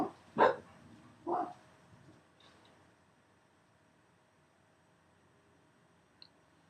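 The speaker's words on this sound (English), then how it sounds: "dogs are barking at something" Dogs bark twice in sharp, loud bursts close by, followed by a fainter yip, then quiet room noise with a small tap near the end.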